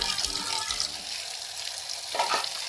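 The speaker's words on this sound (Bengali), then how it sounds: "পাতা রয়ে গেছে ভালো করে ধুয়ে নিতে হবে" Cut Malabar spinach leaves are washed under running water, a close continuous splashing and gurgling with a brief stronger surge near the end.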